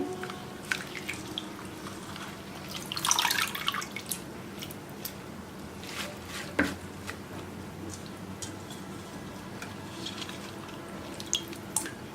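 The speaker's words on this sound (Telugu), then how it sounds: "ఇలా కట్ చేసుకున్న పాలకూరను ఇలా శుభ్రంగా కడుక్కొని ఇందులో వేసుకోవాలండి" Cut spinach leaves being washed in water in a home kitchen: soft drips, splashes and a burst of running water from a tap, close and fairly quiet, with no voices.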